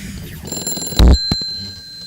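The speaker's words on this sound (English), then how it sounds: "Please answer the phone immediately." A telephone ringing: a short electronic ring with bright, sustained tones and a sudden loud burst in the middle, lasting about two seconds.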